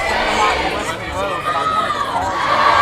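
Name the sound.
baseball crowd getting rowdy and cheering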